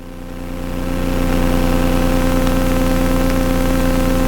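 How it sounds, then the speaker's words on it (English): A light aircraft engine idles after a flight near Meteor Crater in northern Arizona, a loud steady droning hum with strong low harmonics that swells up over the first second and then holds constant, close and alone. "So I usually let the engine cool down a little bit"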